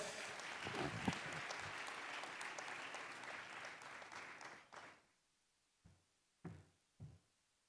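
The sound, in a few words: round of applause at a celebration ceremony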